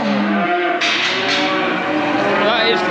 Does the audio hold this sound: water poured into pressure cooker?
no